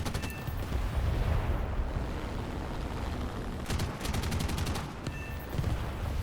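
Rapid machine-gun bursts from a Ki-61 Otsu fighter in War Thunder, a few quick strings of shots over a steady engine drone, loud and close.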